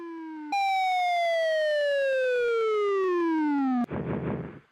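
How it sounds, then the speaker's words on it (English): A cheap toy laser gun gives a loud, buzzy electronic zap that starts high and sweeps steadily downward for a few seconds, ending in a short burst of noisy static. "the backing sound effect is a stock sound of one of those cheap laser guns you get as a kid"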